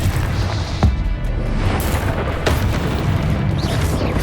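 The Confringo blasting spell in Hogwarts Legacy sets off deep, booming explosions, several heavy blasts rolling over a dense, rumbling game soundscape with no clear speech.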